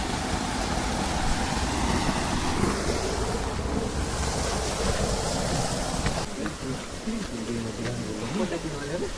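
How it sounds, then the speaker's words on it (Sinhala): Water pours from a natural pool as a small waterfall in the southern hills of Sri Lanka, a dense, continuous rushing roar heard up close with a voice talking over it and some wind buffeting. "ලස්සන පොඩි දියැලක් තියෙනවා. මේ නැචරල් පූල් එකකින් එන වතුර තමයි පිටට එන්නේ."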